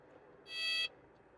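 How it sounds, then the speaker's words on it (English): Aircraft stall warning horn in Microsoft Flight Simulator 2020 during a crosswind landing, a single loud, steady, high buzzing tone lasting under half a second over low background cockpit rumble. "That's a loud stall horn."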